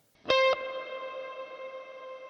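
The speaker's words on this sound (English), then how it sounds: "I wanted more of that more digitally sounding reverb." A single sustained electric guitar chord rings out with a bright attack, then lingers in a long, shimmering digital reverb tail.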